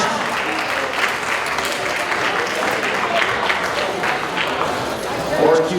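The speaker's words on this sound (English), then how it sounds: "Big round of applause." Crowd applause in a gym at a VEX Robotics school tournament, a steady mid-level wash of clapping lasting several seconds with a loudspeaker announcer talking over it and a slight swell at the end.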